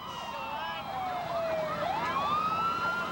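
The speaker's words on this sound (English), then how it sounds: "you could hear the sirens and all coming" Emergency vehicle sirens wail as they approach, several overlapping rising and falling tones at steady loudness, fairly near, with no speech.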